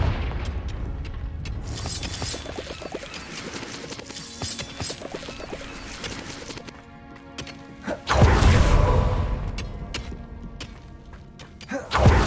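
Blasting spells such as Confringo cast in the Hogwarts Legacy video game, several heavy booms and thuds with whooshes and mechanical clatter, a big explosive burst near the middle and another right at the end.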